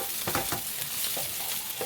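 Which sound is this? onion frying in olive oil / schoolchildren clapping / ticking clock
onion frying in olive oil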